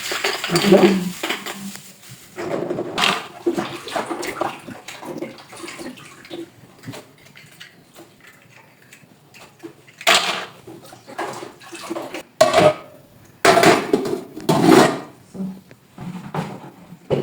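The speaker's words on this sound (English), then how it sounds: "So it's now for this to wash the covers." Bottle covers are washed by hand in water, giving intermittent clinks, knocks and splashing swirls in short bursts separated by quieter gaps, close to the microphone.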